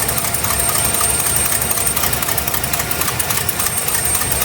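A loud, steady 390 FE V8 engine in a 1966 Ford Galaxie 500 idles close by with a rough, rumbling pulse that stays constant throughout.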